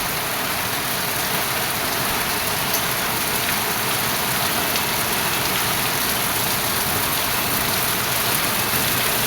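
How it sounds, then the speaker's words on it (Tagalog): Heavy rain pours down steadily, a dense, unbroken hiss of drops hitting surfaces, loud and constant throughout with no voices. "Malakas ang ulan, ha?"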